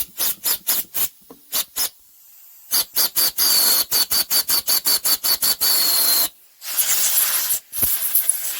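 Short bursts of carburettor cleaner sprayed into the carburettor of an Onan flat-head twin generator set: rapid hissing puffs, then longer continuous sprays, close and fairly loud, with no talking.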